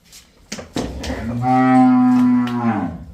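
A buffalo lets out a long, deep moo, rising after a few short grunts and holding a loud, steady tone before trailing off.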